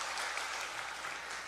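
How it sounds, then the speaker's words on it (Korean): Church congregation applauds during a combined all-generations worship service, with a steady, even wash of clapping from many people throughout. "우리 그분들을 위해서 박수 한번 해주시면 감사하겠습니다"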